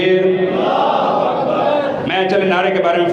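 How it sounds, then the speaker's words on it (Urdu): A crowd at a Muharram majlis in Jalalpur Jattan shouts back in unison to a religious slogan chant. Many voices blend into a loud, dense roar that swells again near the end. "ایک دفعہ میں نعرہ لگاتا ہوں، آپ جواب دیجیے گا، نعرہ تکبیر"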